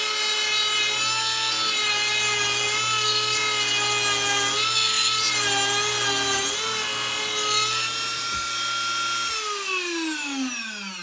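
A Dremel rotary tool mounted in its workstation drill press drives a brad point bit down through just over three-quarter-inch walnut, a steady high whine with a grinding edge that holds throughout, then winds down at the end.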